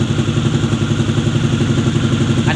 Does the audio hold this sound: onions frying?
no